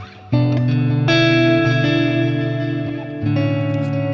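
Clean electric guitar chords with no compressor pedal ring out with reverb, sustained and even, a fresh strum entering about a second in and again near the end.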